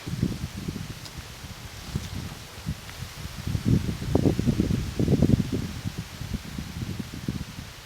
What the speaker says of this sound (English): The wind is kind of coming and going